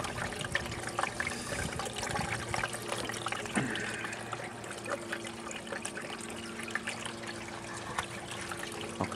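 Water trickling and gurgling steadily through a DWC hydroponic PVC pipe setup, a constant low splashing flow heard alone at moderate distance.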